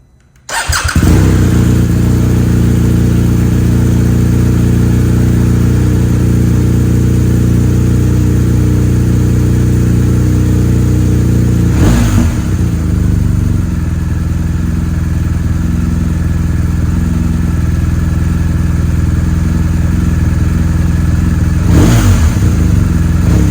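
BMW R 1250 RS motorcycle with a BrenTune exhaust starts up and settles into a loud, steady idle close by, with two brief throttle blips about ten seconds apart.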